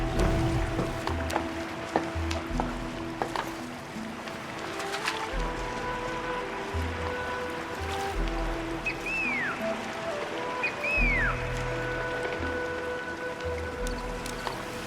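Boat ride in the Arknights Endfield video game, with soft flowing water ambience under calm sustained game music and a few faint chirping tones, steady and peaceful.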